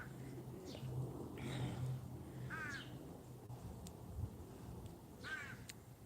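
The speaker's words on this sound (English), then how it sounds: "That bird's being a real chatty Cathy, isn't it?" A crow caws repeatedly outdoors, harsh calls in short bursts spaced a second or two apart, moderately distant over a low steady background hum.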